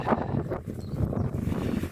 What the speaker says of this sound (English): It's very windy trying to hold the camera here.